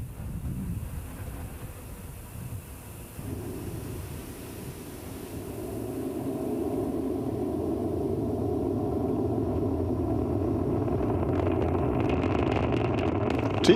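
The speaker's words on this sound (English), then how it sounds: "We can hear the characteristic rumble as the first stage heads into space" Deep, steady roar of a SpaceX Falcon 9 first stage climbing after liftoff from Complex 39A at Kennedy Space Center, a continuous broadband rumble that swells slightly and stays loud throughout, with no voices.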